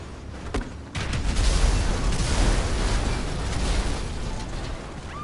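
An explosion in a wrestling video game, a loud, close burst after a brief click, followed by a long rumbling roar of debris that slowly fades over several seconds, with no talking.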